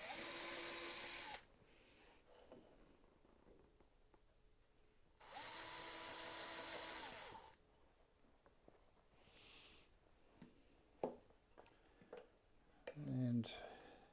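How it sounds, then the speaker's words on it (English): A power drill whines at high speed drilling holes in a wooden finger-joint box drawer in two bursts of a couple of seconds each, with quieter handling clatter between and after. "now it's just a matter of drill those holes"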